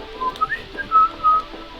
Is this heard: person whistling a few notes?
yes